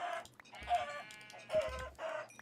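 Chickens in a video game cluck in several short, repeated bursts at moderate volume, with no talk over them.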